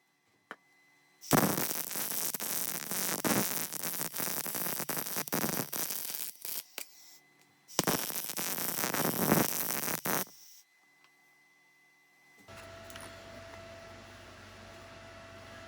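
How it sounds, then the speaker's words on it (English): Welding over a cracked weld seam produces two long bursts of loud, harsh crackling sizzle close to the microphone, separated by a short pause, followed by a quieter steady hum. "I'm just gonna go ahead and clean it up and throw another weld on"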